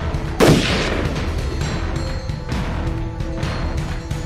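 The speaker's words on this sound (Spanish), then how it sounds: "Nuevamente, un disparo" A single loud gunshot sound effect in a zombie apocalypse story cracks sharply near the start, then fades into a dense, rumbling background that continues without speech.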